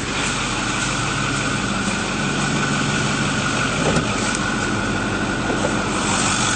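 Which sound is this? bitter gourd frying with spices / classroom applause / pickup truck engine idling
pickup truck engine idling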